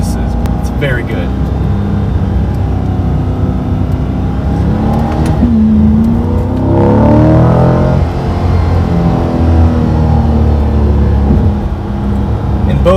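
A V8 sports car engine revs and accelerates loud and close, its pitch rising steadily in one long sweep over a constant rumble, with someone talking over the engine noise.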